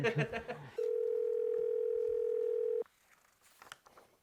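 A phone line carries a single long, steady ringback tone lasting about two seconds after a short burst of other tones, followed by quiet line noise and faint voices.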